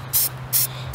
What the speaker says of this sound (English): His method is just spraying it straight down.